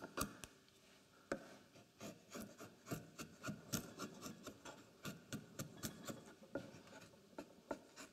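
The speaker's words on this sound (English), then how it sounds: "So I'm just taking the bulk off with my flat chisel here." A flat chisel pares wood while carving a wooden scoop, producing a steady series of short scraping, rasping strokes in an uneven rhythm, close and fairly quiet.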